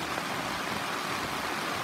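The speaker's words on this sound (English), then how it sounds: "we've got some heavy rain here" Heavy rain drumming steadily on a camping tent roof in the early morning, a dense, continuous broadband hiss with no breaks, loud and close with no voices.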